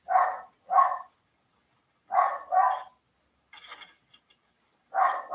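A dog in the video game Tears of the Kingdom barks in short doubled pairs, two quick barks, a pause, two more, then a lighter yip-like sound and a final pair, clear and fairly close with no talk.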